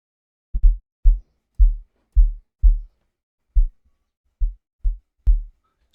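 Kick drum samples from an amapiano sample pack, played one after another as about ten short, punchy, deep thumps with brief gaps between them, loud and dry, with no talking.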